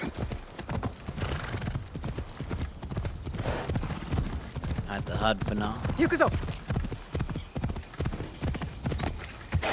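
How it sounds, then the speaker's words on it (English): Horse hooves clip-clop steadily in the video game Assassin's Creed Shadows, a continuous rhythmic gallop heard close up with an occasional whinny, while a person talks over it throughout. "Let's get a horse."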